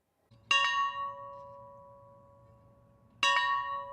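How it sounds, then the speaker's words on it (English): A single bell at Jimmy Carter's boyhood farm in rural Georgia strikes twice with clear ringing tones, each stroke sustained and slowly fading, heard alone in a quiet outdoor setting. "where Jimmy Carter grew up in rural Georgia, a bell was rung 39 times in honor of the 39th president"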